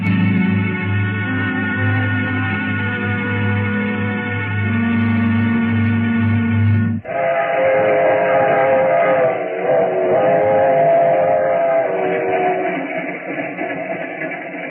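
A train journey sound effect in an old radio drama: a steady loud rumbling, humming drone of a moving train that shifts abruptly midway into a different, rolling rail-car tone, continuous throughout with no voices.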